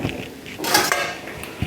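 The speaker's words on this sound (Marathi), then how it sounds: "झाकण ठेवू कमी गॅसवर." A metal lid set down onto a cooking pot of yellow potato bhaji on low gas, a short clattering metallic clink with a faint creak, close and alone.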